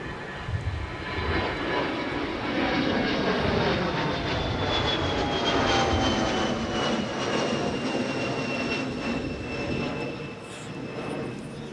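Delta Airbus A330neo jet arriving at Minneapolis–St. Paul airport, a steady broad engine roar with whining tones that holds loud and constant throughout, no talk.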